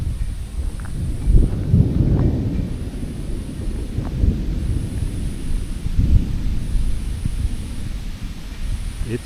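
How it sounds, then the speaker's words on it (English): A West Virginia thunderstorm rumbles with repeated low, rolling thunder under steady rain and gusting wind buffeting the microphone, the booms swelling and fading over several seconds. "And the rain has just started."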